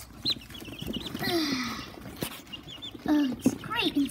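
Chicks cheep in short high chirps scattered through the clip, partly under a person talking nearby.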